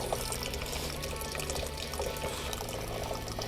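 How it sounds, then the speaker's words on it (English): Rare rose water poured into a pot while cooking a travel snack, a steady broadband liquid splash and trickle running continuously and fairly close throughout, with no talking. "Right now, we're gonna add in this rare rose water."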